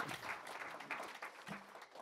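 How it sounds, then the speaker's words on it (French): Faint applause from an audience at a French industry conference, a dense patter of many hands clapping at once that sounds distant and continuous. "Applaudissez le directeur général de la FIAC."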